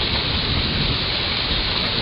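Rain just beginning, picked up by an outdoor security camera: a dense, steady hiss of falling rain with no breaks, even and continuous from start to finish.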